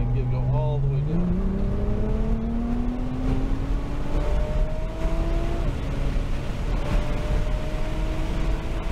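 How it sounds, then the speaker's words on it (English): Inside a Nissan GT-R on a race track, the engine pulls hard through gears, its pitch climbing in long sweeps with brief dips at each shift, loud and close under a driver talking. "We get to start rolling on some gas here and get go all the way down."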